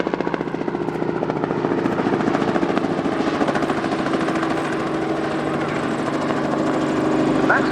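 A 1957 Bristol 171 Sycamore helicopter, a former Luftwaffe machine, flies at the Yeovilton airshow. Its rotor chops steadily over a loud engine drone for several seconds, close and continuous.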